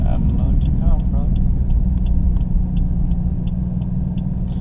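Toyota JZX100 Chaser engine running under turbo boost with a smaller turbo, a deep steady rumble close by, sharp high clicks and ticks scattered over it, and brief talk near the start.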